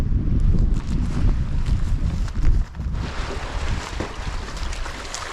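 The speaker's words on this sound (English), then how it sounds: "I think this wind is trying to drop" Strong wind blasts across the microphone at the mouth of the River Usk during a sea fishing session, a heavy, rumbling buffeting that eases slightly partway through, with no speech.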